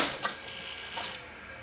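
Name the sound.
Sony VP2000 U-Matic video recorder motor running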